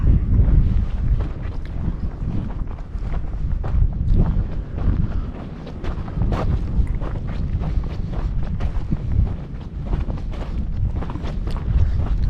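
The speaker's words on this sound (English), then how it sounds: "the wind's picking up 15 miles an hour plus, probably, with gusts" Gusty wind of about 15 mph or more buffets the microphone outdoors on Lockhart Basin Road in Bears Ears National Monument, making a loud, constant low rumble with irregular thumping gusts and no voices.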